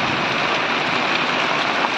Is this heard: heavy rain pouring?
yes